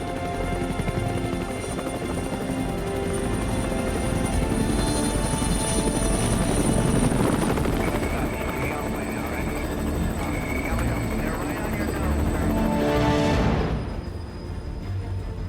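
A helicopter drones loudly and steadily with a low rotor thrum, voices underneath, before the engine sound drops away near the end.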